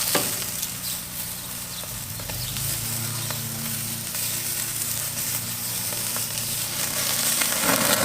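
Beer brats sizzle on an Oklahoma Joe's Blackjack Kettle grill, a loud continuous hiss and crackle close up, with some low rumbling movement partway through.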